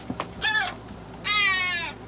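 Crows caw during feeding on meat and eggs: a short harsh call followed by a longer, louder drawn-out caw, close by and alone with no talk.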